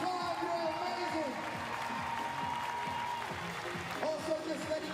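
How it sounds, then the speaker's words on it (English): Arena crowd at a Brisbane Bullets versus New Zealand Breakers basketball game applauding steadily, a broad wash of clapping and cheering beneath an amplified announcer's voice and reverberant music tones. "Brisbane, give yourselves a big round of applause one more time, you're amazing."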